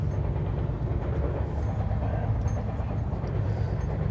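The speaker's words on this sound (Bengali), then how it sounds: "ট্রেন কিন্তু আমাদের ছুটছে একদম পাম দিয়ে" The Kolkata Garib Rath Express, an AC train on the Kolkata to Guwahati run, rumbles along at speed in a loud, continuous low roar that holds steady throughout.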